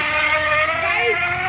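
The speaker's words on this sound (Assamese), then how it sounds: "bike bike bike" A steady motorbike engine drone hums throughout, rising slightly in pitch as it passes close by, with faint voices in the background.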